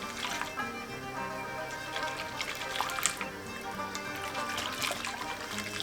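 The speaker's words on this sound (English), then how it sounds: "I'm taking some of this hot broth from the meatballs and I'm gonna slowly incorporate it while whisking into this egg mixture" Hot meatball broth trickles slowly into an egg mixture while it is whisked, a soft steady liquid dribble with light clinking and splashing, faint and close.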